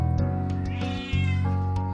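A cat meows loudly and close by, a couple of drawn-out, insistent calls over a steady low hum.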